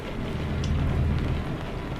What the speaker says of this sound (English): Oh, it's not foggy, it's raining.